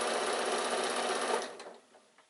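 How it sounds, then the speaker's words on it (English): A sewing machine stitches a fabric baby bag in a close, loud, rapid mechanical whir that runs for about a second and a half, then winds down and stops, followed by a few faint handling taps. "You can sew across the bottom and up the other side."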